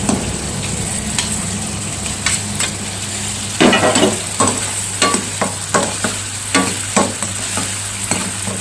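Chicken pieces fry in a pan with onion and capsicum for handi chicken masala, with a loud, constant sizzle broken by repeated scraping and clacking stirring strokes.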